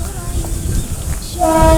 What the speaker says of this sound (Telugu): సోదరులారా, ఇది అలమండ రైల్వే స్టేషను